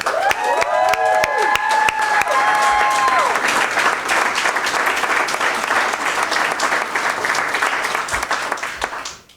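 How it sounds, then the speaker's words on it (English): A large rally crowd at a Pennsylvania primaries event claps loudly and continuously, with whistles and cheers rising over the applause early on before it gradually fades. "So let's give them a round of applause."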